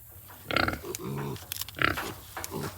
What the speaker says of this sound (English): our baby pigs.